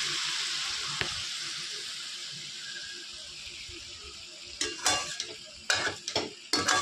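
Mutton curry being stirred in a pan over a soft sizzle, a quiet frying hiss at first, then a burst of sharp scraping and clinking strokes from the spoon against the pan toward the end.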